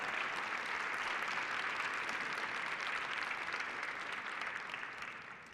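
Sustained applause from the audience at an awards luncheon for the space industry, a dense, steady clapping that carries evenly for several seconds before starting to taper off at the end.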